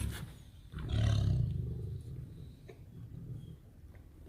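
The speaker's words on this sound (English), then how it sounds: "How does that compare to the sound of a tiger?" A captive tiger fed red meat lets out a deep, loud, close roar that swells and fades within about a second, followed by lower rumbling breaths.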